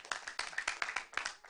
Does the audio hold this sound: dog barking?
no